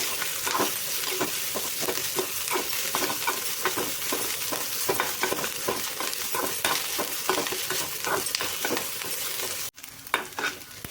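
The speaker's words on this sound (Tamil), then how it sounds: "வெங்காயம், பச்சை மிளகா, கருவேப்பிலையெல்லாம் போட்டதுக்கப்புறம் நல்லா கலந்து விட்டுக்கோங்க" Onion, green chilli and curry leaves sauté in hot oil while a spoon stirs them steadily, giving a continuous loud sizzle with rhythmic scraping strokes that briefly drop out near the end.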